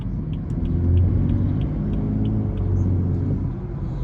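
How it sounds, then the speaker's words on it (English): A BMW with a new exhaust accelerating around a corner, a steady deep low rumble of engine and exhaust heard from inside the car, continuous and fairly loud with no talking. "This thing sounds nutty at low RPM more than it does at high RPM"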